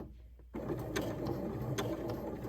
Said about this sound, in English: So this is stitch in the ditch. I am literally stitching